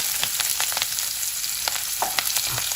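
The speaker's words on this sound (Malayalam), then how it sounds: "ഇഞ്ചി, പച്ചമുളക്, സബോള ചേർത്ത് വഴട്ടാം." Onion, ginger and green chili sautéing in a hot pan for a vegetable stew, giving a steady close sizzle with light crackles and occasional stirring scrapes throughout.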